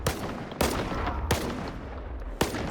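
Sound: Saiga D-12 shotgun shots in video game STALKER 2

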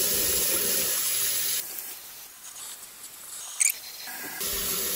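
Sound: hot tap water running into kitchen sink

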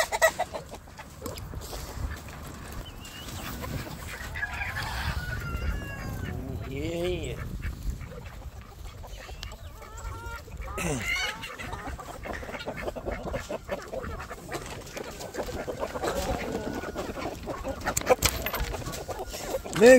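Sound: chickens clucking on a homestead

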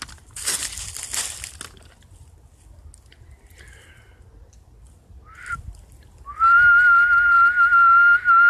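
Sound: person whistling a tune

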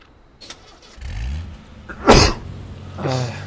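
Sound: sneeze

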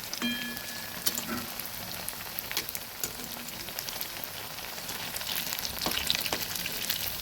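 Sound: carrot pithe frying in hot oil

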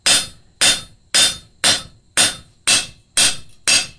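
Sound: hammering hot metal with flat hammer face, blacksmithing

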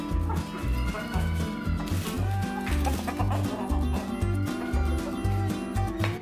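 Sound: chickens, rooster and guinea fowl reacting to a new hen

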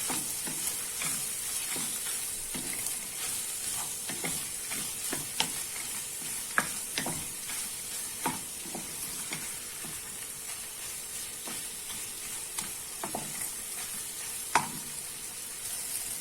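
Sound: tomato paste sizzling while being stir-fried in a pan

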